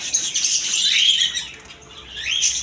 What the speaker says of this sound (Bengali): এই হচ্ছে ককাতুল পাখি অ্যালবিনো ককাতুল আর উপরের দিকে আছে লোটিনো রেডাই লোটিনো ককাতুল